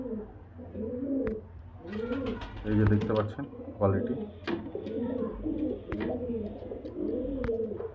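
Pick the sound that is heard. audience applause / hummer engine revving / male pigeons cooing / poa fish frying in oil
male pigeons cooing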